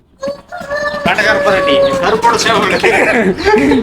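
A black rooster crows loudly and close by while people talk and chatter over the call.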